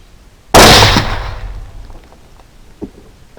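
A single sharp, loud 6.5 Grendel rifle shot fired at a hog, with a sudden crack followed by a decaying rumble and fading echo, then a faint small knock afterward; no talking.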